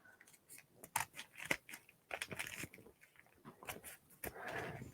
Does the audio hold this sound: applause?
no